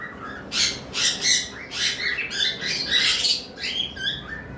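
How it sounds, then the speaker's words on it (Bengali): Several lovebirds, including a pair of Savelet lovebirds, squawk in a bird shop, with harsh, shrill calls bursting repeatedly at close range over a steady murmur of background chatter. "এখানে এক পেয়ার লাভবার্ড রয়েছে স্যাভেলেট লাভবার্ড"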